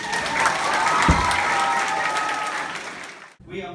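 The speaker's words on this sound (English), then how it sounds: "Round of applause." Applause from a crowded school assembly room at a back-to-school welcome, dense and steady with some cheering mixed in, then cutting off abruptly near the end as a voice resumes.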